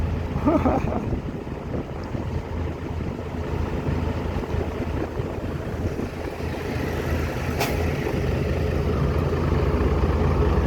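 Wind gusting across the microphone at a Buddhist merit-making fair in Nang Rong district, a loud, steady low rumble that continues without a break for the whole stretch.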